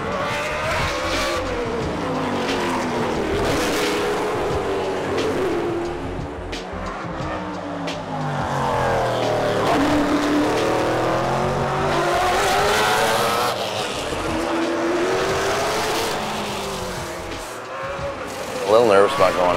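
Race cars come around a walled racetrack in Denver, their engines droning and rising and falling in pitch as they sweep past, with a continuous loud roar throughout and voices faintly underneath.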